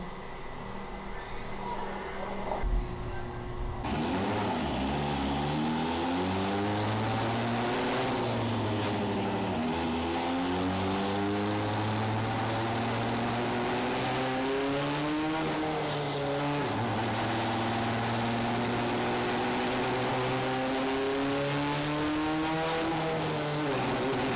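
Rebuilt Honda race car engine on its first dyno pull, a loud continuous roar that climbs steadily in pitch through the rev range, dips on each shift and climbs again, with no talk over it.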